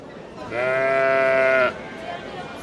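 A single sheep at a livestock market lets out one clear, sustained bleat lasting about a second, close by and loud, over a low murmur of crowd noise.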